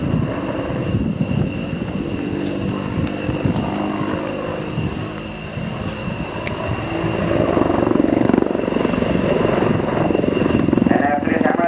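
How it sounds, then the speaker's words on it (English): A Royal Netherlands Air Force Apache helicopter flies a display at an air show, its engine and rotor roar and thump continuously and loudly, swelling as it manoeuvres, while a commentator's voice runs over it. "It shows the exact limits of the Apache helicopter"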